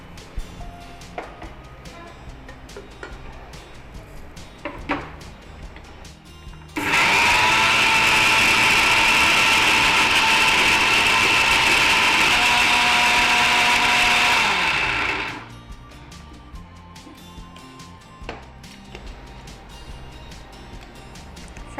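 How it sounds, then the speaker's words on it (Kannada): Mixer grinder blending shake ingredients in a home kitchen, a loud steady whirring roar that starts abruptly, runs about eight seconds and cuts off, with quieter kitchen sounds before and after. "ಸೊ ಗ್ರೈಂಡ್ ಮಾಡೋದಲ್ವಾ ಇದನ್ನ?"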